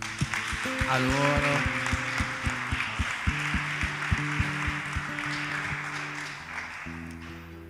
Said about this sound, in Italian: Se possiamo fare un applauso